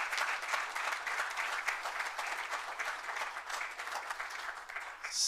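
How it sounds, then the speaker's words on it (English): Steady applause from an audience at a city council meeting, honoring young residents, with dense even clapping filling the room for about five seconds at moderate volume with no talking over it. "another big round of applause for these great young folks"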